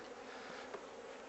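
Honey bees buzz around a Langstroth hive as a soft, continuous hum of many wings. The sound is faint and steady throughout.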